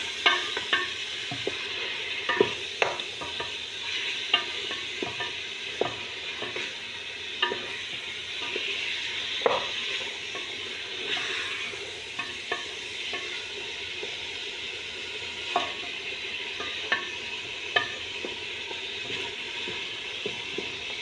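Lamb fries in a pan as it is stirred, giving a continuous hissing sizzle broken by frequent light scrapes and clicks of the utensil against the pan, close and unhurried throughout.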